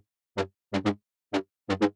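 Short, bright stabs from a distorted, detuned tech-house synth upper layer in an uneven pattern: one, a quick pair, one, then another pair, each with a harsh buzzy edge and a rapid cutoff from very short envelopes.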